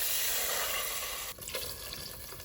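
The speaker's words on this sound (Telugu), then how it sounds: "ఇగో నీళ్ళు వేస్తున్నాను." Water is poured into a cooking pot while a dry prawn and sesame curry is being made, a steady close splashing rush that eases off partway through, with no talking.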